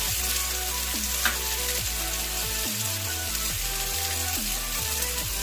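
Ginger-garlic paste sizzles in a kadai over onion and tomato for a Bengali egg and potato curry, a continuous close frying hiss with soft stirring, a light background tune and no speech.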